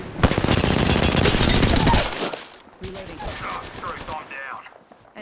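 Heavy automatic gunfire in a battle royale video game, a dense loud burst for about two seconds, then scattered shots and game sounds with a voice speaking over them.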